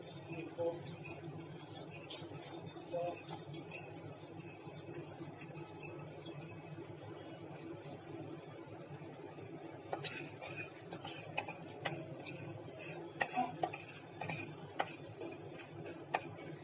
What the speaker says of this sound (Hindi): अब मैं इसमें जीरा और मेथी दाना डाल के हिलाऊंगी